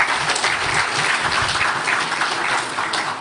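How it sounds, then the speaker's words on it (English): A hall of Ghana Football Association congress delegates breaks into sustained applause for league champions Bibiani Gold Stars, a dense, steady clatter of many hands that holds through the whole stretch without a pause. "Let's clap for the champions."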